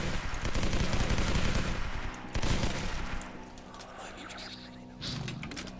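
Gunfire in the shooter game City Under Siege, dense rapid bursts of shots loud and close at first, thinning into scattered sharper reports with a faint voice underneath.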